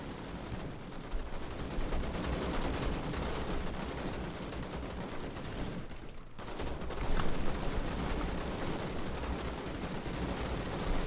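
Sustained gunfire in a multiplayer battle in the video game Call to Arms: dense, overlapping rifle and machine-gun bursts roar without a break, dropping out for a moment before the firing swells again.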